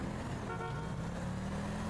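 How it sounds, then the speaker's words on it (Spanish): A car horn honks in the FiveM driving game, a short bright toot over steady traffic and engine rumble. "lo digo por el claxon"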